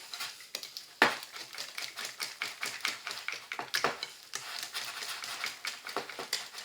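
Whisk beating cake batter in a bowl, a quick, steady run of light tapping and clinking strokes close by, with a couple of sharper knocks against the bowl's side.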